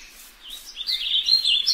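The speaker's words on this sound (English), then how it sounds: "This update will finally add ambient sounds, such as birds singing in the forest." Game-style forest ambience in Minecraft, with small birds chirping and trilling in quick, rising calls that grow louder and busier midway, clear and alone over a quiet background.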